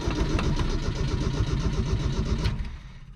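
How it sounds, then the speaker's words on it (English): Engine of a 1979 Luv 4x4 truck running while partly submerged in water, a loud steady rumbling idle with rhythmic pulsing that fades near the end. "we're getting closer to having a submerged engine"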